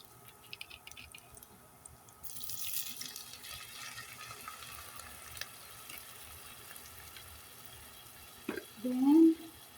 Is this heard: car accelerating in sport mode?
no